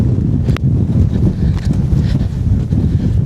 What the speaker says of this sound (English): Here comes back the wind.